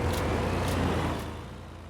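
Steady low rumble of a lorry engine in Farming Simulator 22, droning at an even pitch at moderate volume with faint higher clatter, easing slightly toward the end.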